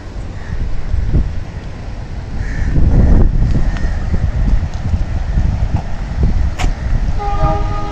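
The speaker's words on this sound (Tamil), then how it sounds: "அங்கேருந்து இந்த ட்ரெயின் வந்து இப்போ கிளம்பி போயிட்டுருக்கு. ராமேஸ்வரம் டு திருச்சி." A Rameswaram to Tiruchirappalli train departs, rumbling loudly and rattling its wagons close by, with wind noise throughout and a horn note near the end.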